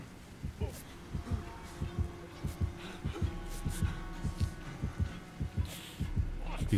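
In Dead by Daylight, the killer's heartbeat pounds in a regular doubled thump rhythm, low and heavy, over a soft hum, with a faint voice underneath.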